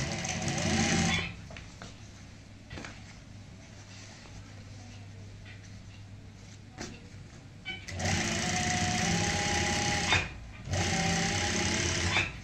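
Sewing machine stitching lace onto a neck design, a close whirring run at the start and a longer run near the end with a brief stop, quieter handling in between.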